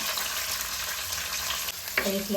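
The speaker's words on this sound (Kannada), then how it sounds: "ಈಗ ನಾನು ತಗೊಂಡಂತಹ ಕರಿಬೇವು ಹಾಕ್ತೀನಿ ನಾನು ತಗೊಂಡಂತಹ ಈರುಳ್ಳಿ ಹಾಕ್ತಾಯಿದ್ದೀನಿ" Onions and curry leaves sizzle in hot oil for a brinjal curry, a loud, dense crackle close by, with a short stir or clatter of the pan near the end.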